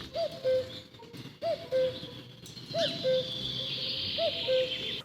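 A mechanical cuckoo clock sounding its two-note cuckoo call four times in an even, repeating rhythm, clear and close, with a faint background hiss and no speech.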